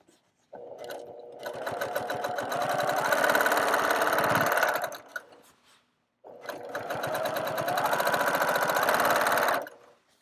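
A sewing machine stitches a quilt in two long continuous runs, a fast steady mechanical chatter, close and loud, separated by a short pause.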